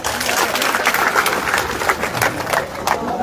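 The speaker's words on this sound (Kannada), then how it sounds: "ರಾಜು ಸಾಹೇಬ್ರಿಗೆ ಇನ್ನೊಂದು ಜೋರಾಗಿ ಚಪ್ಪಾಳೆ ಬಾರ್ತಾರೆ" Loud, dense applause from a large crowd at a farmers' protest at Gurlapur Cross in Belagavi district, honouring a speaker who has just finished; sustained clapping fills the whole stretch with a few sharper claps standing out.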